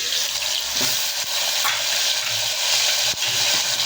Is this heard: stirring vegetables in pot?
yes